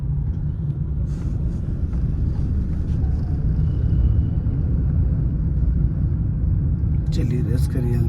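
A car driven slowly on a road in Nawada, Bihar, gives off a steady low engine rumble with gentle acceleration, heard close from inside the cabin, with a few faint clicks near the end.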